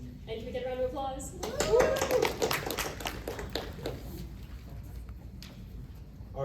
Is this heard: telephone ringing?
no